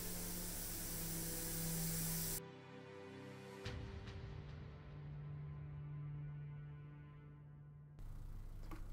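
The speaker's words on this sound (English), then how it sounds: "I'm going to spray just the centres of the mushrooms and do some top down to highlight it up" An airbrush sprays white paint onto mushroom terrain for a tabletop model, a steady hiss in close bursts broken by pauses with a faint hum underneath.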